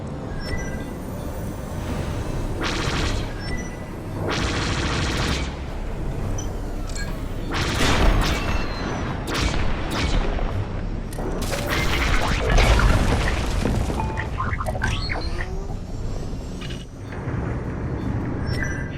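Blaster fire blasting through asteroids in the video game Star Wars: Squadrons, bursts of zapping shots and booming impacts over a steady engine roar, with voices speaking at times.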